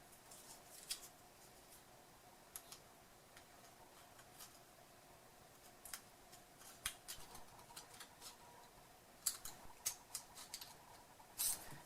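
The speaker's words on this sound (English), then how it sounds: "We now need to trim the flame spreader. You can do this with your scissors." Faint, scattered snips and clicks as scissors trim a flame spreader for a chunk light, coming in irregular bursts against a quiet background.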